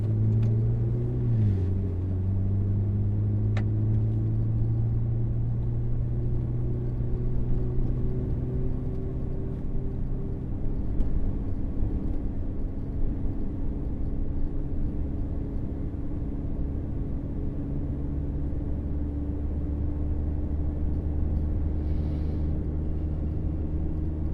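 A car cruises in second gear on the Silverstone track, giving a steady, droning engine hum with a low rumble. The pitch dips briefly at the start, then holds even and sustained for a long stretch.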